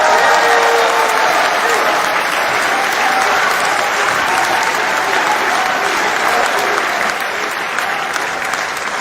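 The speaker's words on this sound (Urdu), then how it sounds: "آپ سب کی بھرپور تالیوں میں" Loud, sustained applause from a large audience at a poetry seminar, steady dense clapping throughout with no pauses.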